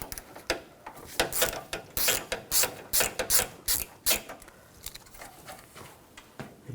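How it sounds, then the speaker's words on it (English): Ratchet wrench with a 13mm socket backing off a nut through the front grille of a 2006-2010 Hummer H3, a run of quick, close metallic clicking strokes in bursts with brief pauses. "Take that nut off."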